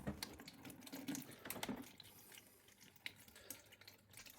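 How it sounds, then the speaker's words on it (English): Leftover water drains from a toilet cistern once the fill valve's supply hose is removed, sounding as faint, close trickling with scattered drips and small splashes. "any water that's left in the cistern will start to drain out"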